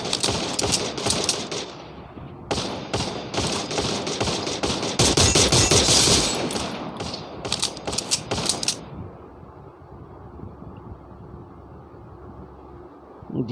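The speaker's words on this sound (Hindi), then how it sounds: "जैसे ही मैं बोलूँ वैसे ही गोली चलाना है ना।" Rapid bursts of automatic gunfire crackle in a shooting video game, loud and dense for several seconds before easing into a quieter rumble.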